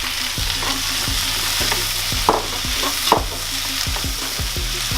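Tomatoes frying in a hot pan for a burger, a steady loud sizzle broken by repeated scraping stirs every half second or so, close up and without speech.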